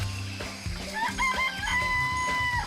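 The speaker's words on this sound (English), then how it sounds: "There's some chickens in the chicken coop." Chickens in a coop in the video game Danganronpa: Trigger Happy Havoc give a short burst of clucking with a drawn-out, crow-like tonal call, clear and alone.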